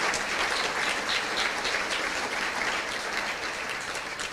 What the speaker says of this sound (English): would you please join me in giving him a huge round of applause?